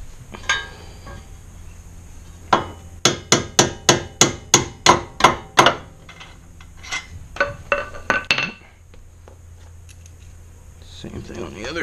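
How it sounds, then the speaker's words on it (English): A small hammer striking a 1993 Ford Escort GT at the lower ball joint during transmission removal: a quick run of about ten evenly spaced, sharp metallic taps, then a few scattered knocks, with faint voices nearby. "A little hammer, not a big hammer."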